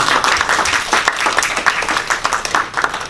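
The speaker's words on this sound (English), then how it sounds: "Applause for all of you guys." Audience applause at an impromptu speaking workshop, a dense burst of many hands clapping, close and fairly loud, sustained for a few seconds without speech.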